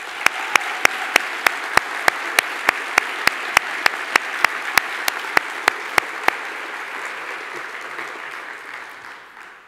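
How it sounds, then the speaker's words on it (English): Audience at a California community forum applauds steadily, a dense wash of clapping from a sizable crowd that fades out toward the end, with no talk over it. "give another round of applause"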